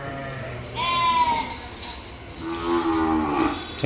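Two long, drawn-out cow moos sound one after another at moderate distance, the second lower and rougher, amid faint background noise.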